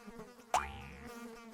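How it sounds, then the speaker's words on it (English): A cartoon fly buzzing around, a short, sudden, thin whining buzz that rises sharply and then trails off within about half a second, heard close and clear with no talking. "Buzz off, you pesky fly."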